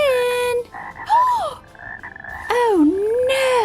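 A cartoon frog character croaks in a few drawn-out, wavering calls, loud and close, separated by brief pauses with no talking.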